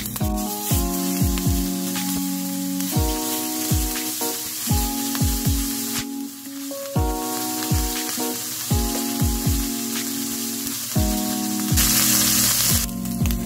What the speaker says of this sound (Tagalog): Then, ipa-fried muna natin yung ating pork.